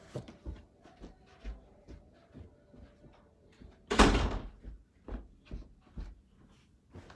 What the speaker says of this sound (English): Hold on, let me shut the door.